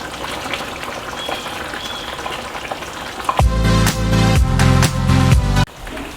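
Boiled beans tipped into a pot of softened potatoes for githeri, first a low bubbling simmer, then loud splashing, thuds and rattling as the beans land and slide in, close up.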